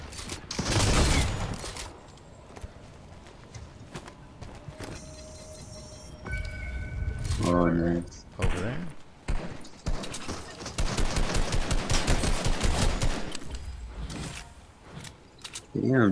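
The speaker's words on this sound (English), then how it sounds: "Oh, I'm being shot. From that way." Bursts of gunfire from a Fortnite match, sharp shots crackling around a voice and in a dense stretch near the end, mixed with other game effects while players talk.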